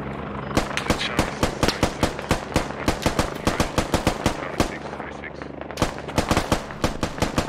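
Loud, rapid bursts of rifle fire in the military shooter Squad, as a squad returns fire at enemy tracers, crack in quick overlapping volleys that keep going almost without pause, close and sharp throughout.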